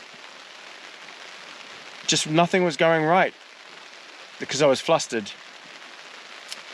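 Heavy rain in a gale beating on a car while camping, a constant dense hiss under a person talking in two short spells.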